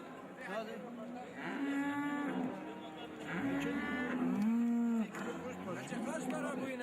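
Cows moo repeatedly at the Siverek livestock market, several drawn-out lowing calls near and far amid a busy crowd, with people talking in the background throughout.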